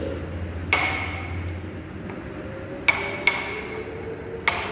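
A lab sample mixed with distilled water is ground in a mortar for a nitrite preservative test, giving sharp ringing clinks of pestle on ceramic at irregular intervals over a low scraping background.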